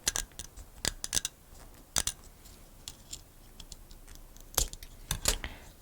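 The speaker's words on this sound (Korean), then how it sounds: "표시한 다음에 그냥 가위로 잘라버리겠습니다." Scissors snip through a wooden toothpick while a miniature is being built, giving several sharp, close cutting clicks spaced irregularly over a quiet background.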